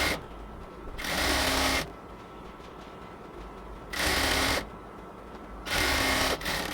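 Sewing machine stitches elastic onto small baby shorts in three short bursts of fast buzzing, each under a second long, with quiet pauses between them, close up and with no talking.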